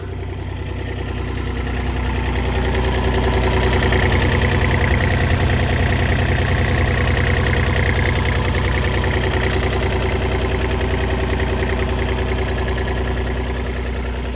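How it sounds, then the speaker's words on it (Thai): A Kubota three-cylinder engine on a 3-ton Sakai TW352 road roller idles close by, loud and steady, with an even low chugging throb that never changes. "ตัวเครื่องยนต์นะคะ คันนี้จะเป็นคูโบต้าสามสูบนะคะ"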